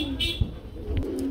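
A pair of racing pigeons coos close by in low, throaty rolls, with a few soft background knocks and a faint hum.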